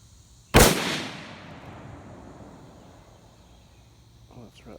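A Mossberg MVP LR rifle in .308 (7.62x51) fires one sharp, loud shot up close, followed by a long fading echo and quiet outdoor ambience.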